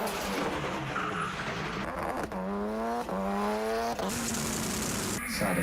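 Ken Block's Gymkhana 3 car drifts loudly, its tyres squealing in long rising and falling bands over a constant roaring engine, with a brief break before the screech resumes.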